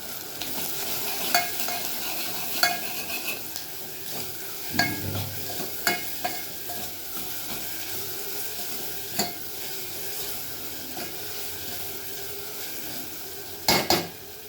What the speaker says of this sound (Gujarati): હવે મેં આમાં લસણ, આદું, મરચાં, હળદર, ધાણા, જીરું અને મીઠું એ બધું જ અંદર નાખી દીધું છે અને મસાલો વાટી લીધો છે. એને સાંતળી લઈશું.